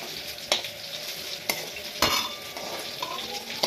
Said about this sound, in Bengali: আমি মুগ ডালটা ভাজতে দিয়েছি, আর একটু তেজপাতা দিয়ে ডালটা ভাজছি।